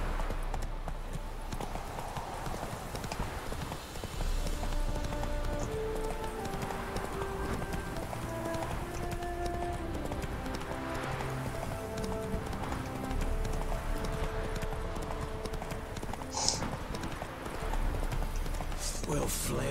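Roach the horse gallops in The Witcher 3, a steady run of hoofbeats drumming throughout, mixed with game music and ambience and voices talking over it.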